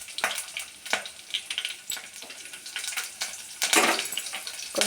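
Mustard seeds with dried red chillies and green chillies sputter in hot oil, a close, busy sizzle punctuated by sharp crackles and pops, with a loud burst near the end.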